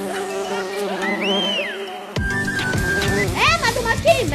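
A cartoon bee buzzes in a desi comedy animation, a whiny, wavering drone that swoops up and down in pitch near the listener, mixed with cartoon music and a child-like voice speaking.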